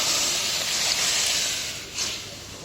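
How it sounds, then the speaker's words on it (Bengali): Hot mustard seed tempering poured into cooked dal gives a steady, close broadband sizzle and hiss that holds throughout with a slight swell near the end; no talking. "এখন আমি নামিয়ে রাখা ডাল এই ফোড়ন ঢেলে দিলাম"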